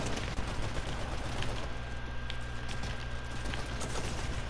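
Gunfire in a Fortnite match, a steady stream of muffled shots and crackling bursts under busy game noise, fairly distant and moderate in level, with no talk over it.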